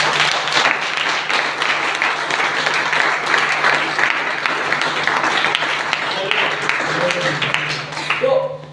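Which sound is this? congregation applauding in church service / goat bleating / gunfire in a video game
congregation applauding in church service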